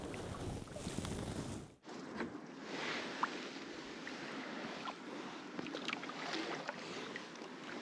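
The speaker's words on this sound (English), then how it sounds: "Just gonna paddle up and down a little bit," Canoe paddling on a quiet lake in Haliburton, Ontario, with soft water swishes and light splashes from the paddle over steady outdoor ambience and faint wind, heard close and gentle.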